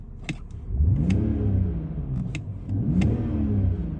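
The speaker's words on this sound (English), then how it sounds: "Let's give it a quick rev so you can hear the engine." A 2007 BMW 325i E93 convertible petrol engine, automatic, at 76,845 miles, revs twice, each rev climbing and falling back to a smooth idle, close and fairly loud, with a few clicks around it.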